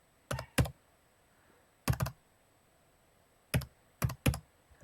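Keys on a computer keyboard are pressed while a number is entered, coming in three short bursts of two or three crisp clicks each, separated by pauses, close and clear over a quiet background.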